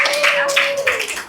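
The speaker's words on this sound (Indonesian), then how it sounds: "Kasih tepuk tangan untuk semuanya dulu" Classroom applause, a brief burst of many hands clapping together, loud and close, with a voice sounding over it.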